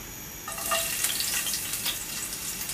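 Dried red chillies and crushed garlic cloves crackling and sizzling in hot oil, a soft hiss swelling as they hit the pan, close by.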